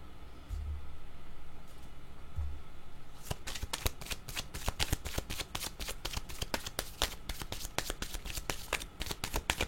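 A deck of tarot-style cards shuffled by hand for a card reading: after a few quiet seconds, a rapid, crisp riffling patter runs steadily to the end, close and moderately soft.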